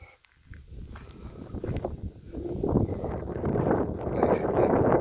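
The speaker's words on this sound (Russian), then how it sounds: "И ветер." Wind at a lakeside campground buffets the microphone, building from quiet gusts to a loud, continuous roar over a few seconds.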